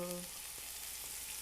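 Chopped onions sizzle steadily in a hot pan just used to cook shrimp, a constant close frying hiss with a brief tonal hum at the start and no talking.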